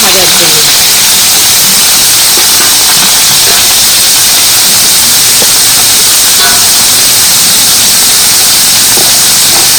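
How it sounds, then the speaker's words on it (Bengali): Soaked cauliflower florets hit hot white cooking oil with a loud, steady broadband hiss and sizzle that runs the full length, close and continuous, with faint kitchen clatter underneath. "এবার গরম তেলের মধ্যে ভাবানো ফুলকপি দিয়ে দিচ্ছি"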